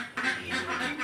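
Ducks on a small farm give a short burst of close, loud quacks, several calls overlapping in about a second.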